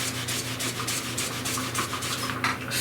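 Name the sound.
magic eraser scrubbing plastic keyboard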